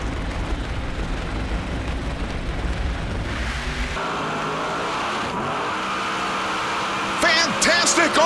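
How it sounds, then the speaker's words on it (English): NHRA Pro Modified drag race car at Bristol, with the engine roaring loudly and the throttle blipped on and off, the broadband blast dropping into a droning, pitch-shifting tone partway through. "You saw him get on and off the throttle just to try and calm that car down for the win."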